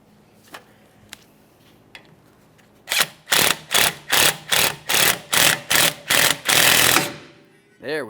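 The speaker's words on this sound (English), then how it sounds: "Find the bolt that fits into it, start it in, and then you just want to continue on by tightening this up." Bolt being tightened to draw a brake drum off a 2014-2019 Toyota Corolla, heard as a run of about ten evenly spaced ratcheting bursts from a power tool after a few faint clicks.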